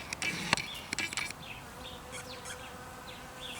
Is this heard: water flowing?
no